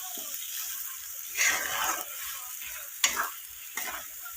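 Fried paneer and peas stirred in a pan, with a soft low sizzle broken by three or four bursts of scraping and clattering as the spoon moves through them.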